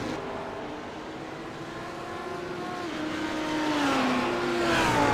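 Blancpain GT race cars, including Audis, running through corners at Circuit Gilles Villeneuve, with a sustained engine drone rising in pitch and growing louder as a car nears and accelerates away.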